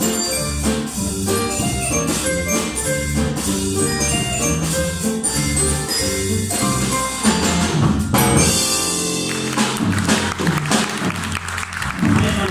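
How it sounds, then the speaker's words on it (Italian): At a concert in Marcon, an audience applauds loudly over ongoing band music, the clapping swelling into a brighter burst near the end. "Prendi di questo meritatissimo applauso"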